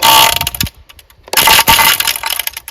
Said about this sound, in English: What you're hearing is the blade cutting off that excess wire.